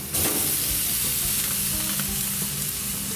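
Thin, beaten steak for an Aussie steak sandwich sizzles steadily in a hot pan, a loud continuous frying hiss with faint stirring and crackle, no voices.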